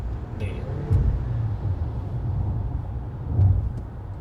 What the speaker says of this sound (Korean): 엔진이 이제 냉간으로 많이 가 있는 상태이기 때문에 엔진을 조금 좀 더 한번 굴려 보겠습니다